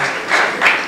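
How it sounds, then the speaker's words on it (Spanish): Church congregation applauding a brother during a Sunday service, a brief dense wash of clapping with no voices over it. "Un aplauso para el hermano Chusito."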